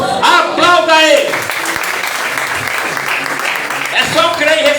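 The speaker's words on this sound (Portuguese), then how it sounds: "Aplauda ele." A congregation at a deliverance church service breaks into applause, steady clapping from many people filling the room, with a voice speaking over it at the start and again at the end.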